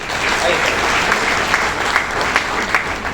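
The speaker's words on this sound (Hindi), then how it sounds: "जोरदार तालियां सर के लिए।" Audience applause breaks out in an indoor meeting hall, dense steady clapping from a crowd that stays strong for a few seconds with a few louder individual claps standing out near the end.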